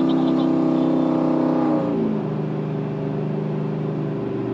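A Dodge Challenger V8 tuned past 1000 horsepower cruises in fourth gear at around 2200 rpm, giving a loud, steady low engine drone with a slight drop in pitch partway through, heard alone from inside the car.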